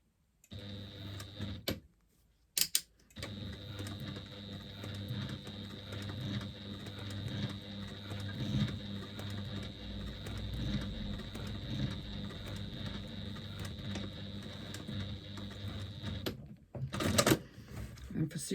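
Sewing machine stitching across a woven bag, a steady whirring motor drone running continuously for most of the stretch, broken by brief pauses near the start and end.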